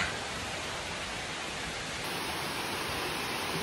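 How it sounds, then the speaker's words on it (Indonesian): A waterfall with fairly low water flow, the third in a series of clear pools at Kolam Dara Baro in Kampung Ie Mirah, Pasie Raja, South Aceh, pours with a steady, dense broadband rush that stays close and even throughout. "Ini air terjun yang ketiga"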